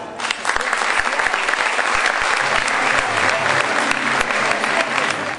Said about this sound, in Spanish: Para ellos, un fuerte aplauso